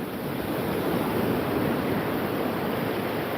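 Ocean waves wash onto a beach in a loud, continuous roar of surf, alone and steady throughout.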